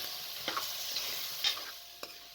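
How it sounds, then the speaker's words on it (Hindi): Minced meat and potatoes frying in a pan, a steady close sizzle with several sharp scrapes and knocks from stirring scattered over a couple of seconds. "आलू डालकर मज़ीद 3 से 4 मिनट तक भून लें।"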